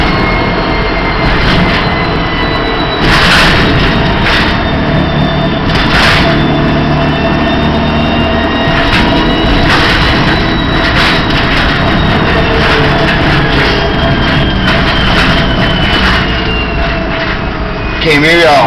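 A 1967 Ford Econoline van converted to electric drive with Nissan Leaf parts, driving on the road. A loud, steady electric motor whine rides over constant road and body noise throughout.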